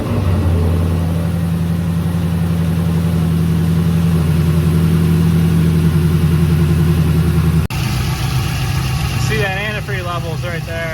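Third-generation car with a swapped LS1 V8 rumbling at a steady, close idle, then a clunk and a shift to a rougher tone as talking starts over it near the end.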